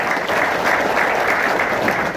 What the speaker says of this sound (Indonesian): Tepuk tangan buat PTBS ya.